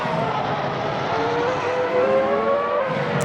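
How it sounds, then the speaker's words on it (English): Ferrari race car pulling out of the pits at the Malaysian Grand Prix in a racing video game, a steady engine tone rising slowly in pitch as it accelerates, sustained and fairly close. "Crawford, I think that was, just exiting out the pits now in the Ferrari"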